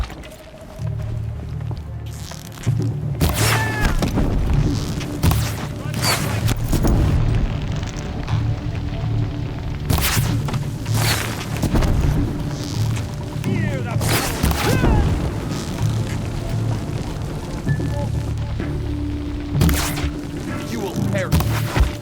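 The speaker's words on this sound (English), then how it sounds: "Who's shooting?" Gunfire and heavy booms ring out in Horizon Zero Dawn on Ultra Hard difficulty, repeated sharp loud blasts scattered irregularly over a low droning rumble, with voices speaking between them.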